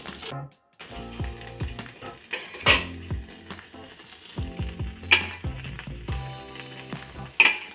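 Vegetables roast dry on a barbecue grill, without oil or ghee, giving a soft sizzle. Close metallic clinks and scrapes from turning them punctuate it irregularly.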